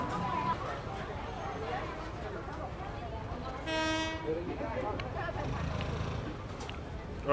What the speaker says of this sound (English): the train's coming past